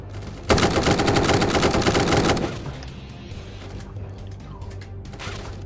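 Automatic gunfire in the Roblox game Prison Royale, one loud, rapid burst of about two seconds that stops abruptly, followed by quieter game ambience and faint scattered clicks.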